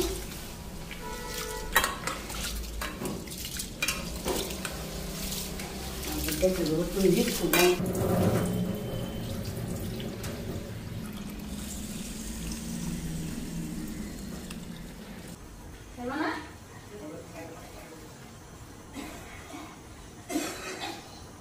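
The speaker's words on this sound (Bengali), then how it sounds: "চালটা ধুয়ে আনি, ভাতের জল বসায় দিলাম।" Rice rinsed in a pot, then water set on to boil: repeated clinks and scrapes of metal pots and utensils with sloshing water, steady kitchen clatter throughout with a few sharper knocks.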